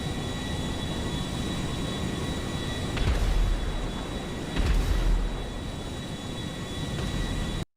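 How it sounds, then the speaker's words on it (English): Steady roar of an airplane during an emergency landing on water, a continuous loud engine and wind wash with two heavier rushing surges midway, then an abrupt cutoff. "This is emergency landing on water."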